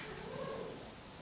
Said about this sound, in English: I'm so sorry about the crazy cat noises